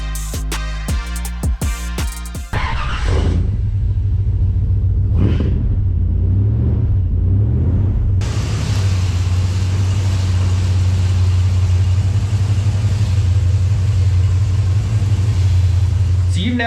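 A 1995 Holden VS SS Commodore being driven into a garage, its engine a steady low rumble that continues throughout after some brief clicks and bumps at the start.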